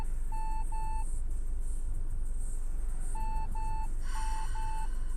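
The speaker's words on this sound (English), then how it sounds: "Oh my god, it's gonna beep every time a car passes me." A car's warning chime beeps as other cars drive past a parked vehicle. Short, even pairs of tones sound three times over a steady background rumble.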